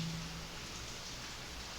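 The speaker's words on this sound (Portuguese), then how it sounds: "ouvindo esse som da chuva" Rain falling, a soft, even patter and hiss that stays steady throughout, faint and with no voices.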